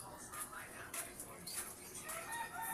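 Chickens cluck faintly in the background in short repeated bursts, with a rooster-like call mixed in, under quiet room noise.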